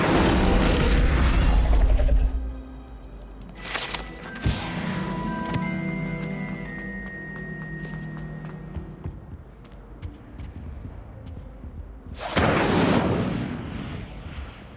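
Fire spells and other magic in Hogwarts Legacy whoosh and boom in loud bursts, with ringing tonal effects trailing between blasts and another heavy impact near the end.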